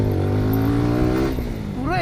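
A motorbike ridden along a road onto an off-road stretch with loose tar grit, freshly serviced and running without any bad noise; a steady close engine drone with harmonic whine holds throughout, and a voice speaks over it near the end.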